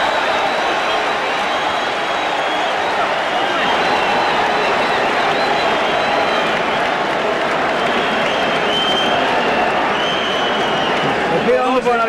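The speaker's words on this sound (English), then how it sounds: "round 10 comes to a close, and the crowd is on its feet again." Boxing arena crowd at a title fight roars and cheers continuously as the tenth round closes, a dense, loud wall of voices with scattered applause throughout.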